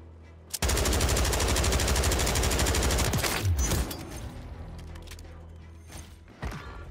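Bruen MK9 light machine gun in Warzone 3 firing one long sustained automatic burst of about three seconds, loud and close, then tapering into quieter mechanical clatter, with a brief shot near the end.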